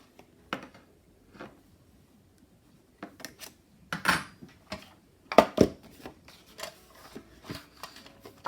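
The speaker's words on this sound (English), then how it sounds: "That will go in there quite well if I cut that down to whatever this is" Scissors make sharp snipping cuts through a sheet of Stamperia Botanic craft paper. The snips come as scattered close crisp bursts with quiet gaps and light paper rustles between them.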